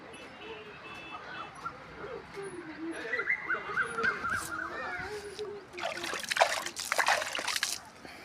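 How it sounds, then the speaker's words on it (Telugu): Water is poured into a plastic tub while a homemade mini air cooler is built; a close, splashy trickle swells near the end, with crows cawing and a dog barking in the background. "ఇప్పుడు ఈ డబ్బాలో నీళ్ళు పోసుకుంటున్నాం కదా"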